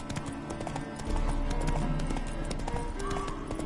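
Hooves clip-clop along in The Witcher 3 as the horse Roach grows spooked, the footfalls rhythmic and close, with a brief snort or whinny breaking in and a rumbling ambient bed underneath.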